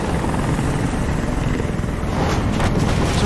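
Steady, dense helicopter rotor roar in the video game Detroit: Become Human, loud and continuous throughout with no talking.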